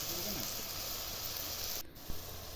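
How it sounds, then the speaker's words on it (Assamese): Meat with spice paste fries in a pan, giving a steady low hiss and sizzle, close and fairly quiet, with a brief pause and a small clunk near the end. "অলপ 5-10 মিনিটমান মই আকৌ ভাজিছোঁ"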